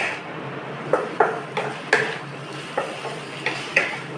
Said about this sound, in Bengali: এবার ভালো করে একটু কষিয়ে নিতে হবে